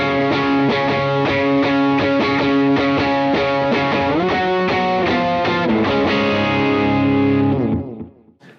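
Electric guitar played through a worship-style pedalboard with short reverb and overdrive pushed for punch, ringing sustained chords and strummed notes loud and close throughout, then cut off abruptly near the end as the tail fades.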